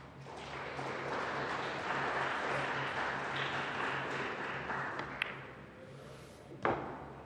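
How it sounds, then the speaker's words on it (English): Round of applause from the audience at a US Open Pool Championship quarter-final, sustained and somewhat distant clapping that swells and then tapers off, with a few sharp knocks near the end. "if you could hear the round of applause in the background"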